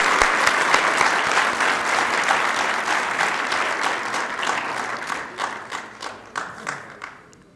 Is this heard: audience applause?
yes